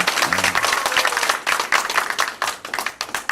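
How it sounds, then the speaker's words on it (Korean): An audience at a Democratic Party candidate debate for the Gyeonggi provincial council in Bucheon applauds a candidate's introduction, a short burst of crowd clapping with uneven, pulsing claps close by. "박수 치셔도 됩니다"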